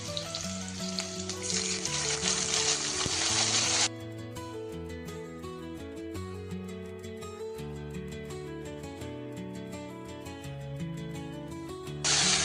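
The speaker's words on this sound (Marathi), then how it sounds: "मिरची आणि हिरवी मिरची तेलामध्ये झाल्याबरोबर त्यामध्ये ह्या शेंगा टाकून द्यायच्या" Winged beans dropped into hot oil with browned garlic, red chillies and green chillies set off a loud, steady frying sizzle that eases back, then swells again at the end, over background music.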